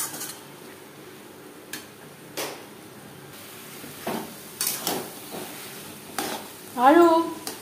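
Taro leaves with chickpeas and coconut cook in a kadai over a medium gas flame, giving a soft steady sizzle broken by scattered scrapes and stirring clicks, with a louder clatter near the end.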